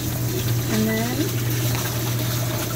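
A compact RV washer/dryer fills with water, a steady running and pumping wash with a constant low hum beneath and a brief voice partway through.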